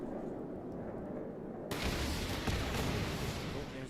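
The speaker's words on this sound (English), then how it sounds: "Oh, there's a lot of explosions." Dense, continuous booming and crackling bursts in Fallout 76, like a barrage of explosions, sudden onset and loud throughout the rest.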